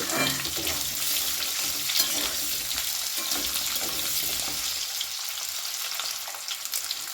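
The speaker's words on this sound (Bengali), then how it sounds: "এবার এর মধ্যে দিয়ে দেব কেটে রাখা গাজর গাজর দিয়েও বেশ ভালো করে নাড়াচাড়া করে নেবো" Chopped carrots stirred in a frying pan while making daliya, a broad continuous sizzle with spoon scrapes and clatter running throughout, close and fairly loud, easing slightly near the end.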